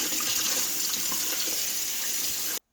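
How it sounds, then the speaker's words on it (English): A Keurig charcoal water filter is rinsed under a running kitchen tap, producing a steady, close hiss of flowing water that continues unbroken and then cuts off abruptly at the end. "Quickly here, let's rinse the charcoal filter for 60 seconds as stated."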